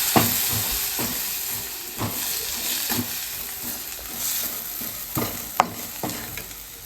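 Onion, tomato, ginger and garlic sizzle steadily in hot oil in a pan, a close, continuous frying hiss punctuated by regular clacks and scrapes of a spoon stirring every second or so.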